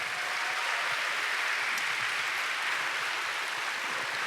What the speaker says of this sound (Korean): 정말 큰 박수 부탁드리겠습니다.